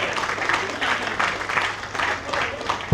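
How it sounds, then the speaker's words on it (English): Applause from an audience at an executive committee inauguration and oath ceremony for a new chairman, a steady wash of clapping lasting a few seconds with no talk over it. "Please a round of applause for them."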